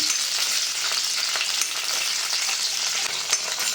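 Dried red chilies, washed and broken into pieces, fry in oil in a pan with a steady, dense sizzle that stays loud and even throughout, with faint stirring scrapes and no voices.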